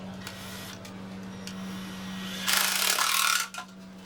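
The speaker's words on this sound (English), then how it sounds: "Alright, and we will drill the first hole." A power drill whirs steadily, then briefly bores louder and harsher for about a second before winding down, close by with no talking.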